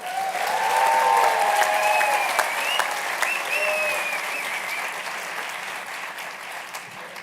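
An audience at a Harvard Class Day ceremony claps steadily as a student speaker is welcomed to the stage, a dense, sustained round of applause lasting several seconds and fading slightly toward the end.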